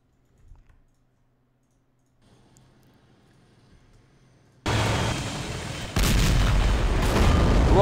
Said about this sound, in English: T-72 turned into scraps!